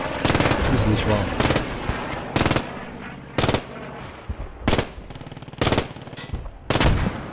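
A German machine gun fires repeated loud bursts in the World War II shooter game Post Scriptum, about seven sharp rattling volleys spaced roughly a second apart with battle ambience in between.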